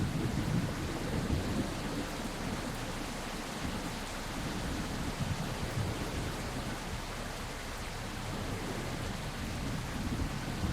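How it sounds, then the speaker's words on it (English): Thunderstorm in the naval game Victory at Sea: Ironclad: heavy steady rain with deep rolling thunder rumbles, dense and continuous throughout, with no voices. "Is this from the storm?"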